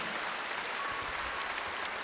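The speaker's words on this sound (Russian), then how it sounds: "Мэтт и Лорана, ваши аплодисменты!" A concert hall audience applauds soloists at a symphony orchestra show, a dense, even wash of many hands clapping, steady and enveloping.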